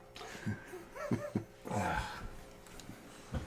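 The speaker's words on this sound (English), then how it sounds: "You silly puppies." Puppies make soft whimpers and small yips nearby, in a few short bursts scattered across a quiet indoor room.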